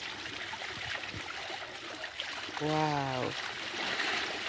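Clothes are rinsed in river water, giving a soft, steady trickle and light splashing at low volume, briefly overlaid by a single short exclamation from a voice.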